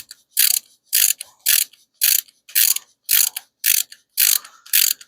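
A socket ratchet clicks through about nine quick, evenly spaced bursts during a hemi engine install in a Plymouth Duster, crisp and close with short pauses between strokes.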